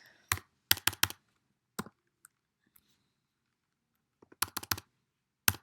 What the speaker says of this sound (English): straight away I type in my measurements